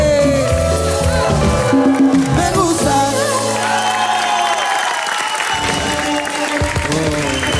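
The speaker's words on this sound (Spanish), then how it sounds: "Un aplauso para ellos." A live audience claps and cheers at a band's show, a dense wash of applause mixed with ongoing band music, loud and close.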